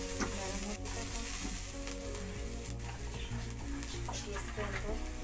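Chopped onions sizzling and frying in a hot pan for momos, a steady crackling hiss with occasional stirring clatter and a continuous background hum.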